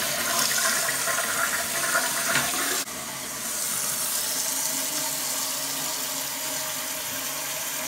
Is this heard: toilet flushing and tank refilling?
yes